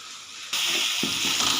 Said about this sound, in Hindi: मेल्ट हो रहे हैं टमाटर, देखें मसाला भी फ्राई हो रहा है।